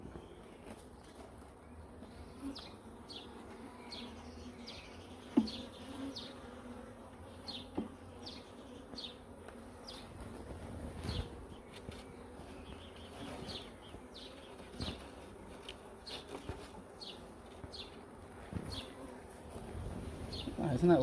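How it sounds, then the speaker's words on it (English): Honeybee swarm buzzing steadily as it builds comb after rehoming into a beehive, a faint close hum with scattered louder bee passes and occasional handling knocks. "See that male drone there? Big male bee."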